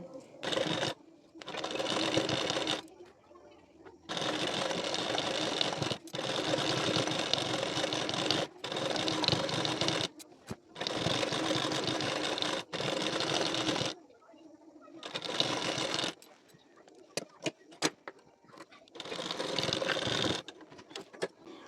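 A sewing machine stitches a neck strip onto the collar of a size 34 blouse, running in repeated close, steady bursts of several seconds each, with short pauses and a few quick stop-start stitches near the end.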